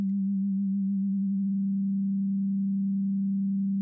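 An Ableton Operator synth produces a steady, low, humming tone, with a fast LFO modulating the carrier oscillator. The tone wavers slightly at first and then holds smooth and even, with no talk over it.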